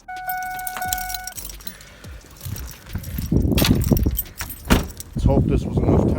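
Car keys jangle close up for about a second, followed by handling and footstep-like thuds as someone moves toward a Toyota Celica, with brief talk mixed in.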